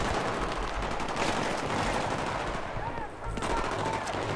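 Sustained light machine gun fire in the Battlefield 3 video game, a dense, continuous burst of rapid shots running loud through the whole stretch with only a brief dip near the end.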